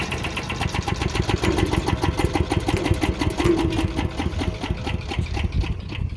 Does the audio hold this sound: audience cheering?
no